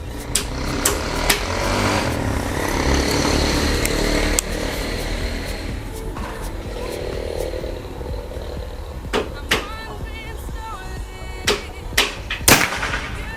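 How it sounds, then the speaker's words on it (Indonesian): Several sharp, isolated shots from a PCP air rifle pop at irregular intervals over a rough outdoor background, each a brief crack with a quick decay. "Tembakan ke 5 ini ya."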